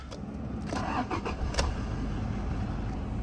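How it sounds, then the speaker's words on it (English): A 2018 Toyota Hilux 2.4 D4D diesel pickup cranks briefly, fires up and settles into a steady, close, rumbling idle. "So these things always fire up on the button, no problems at all."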